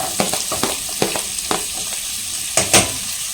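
Onion sautéing in melted butter on a high flame for a baby corn capsicum gravy, a steady close sizzle punctuated by repeated spatula scrapes and taps against the pan.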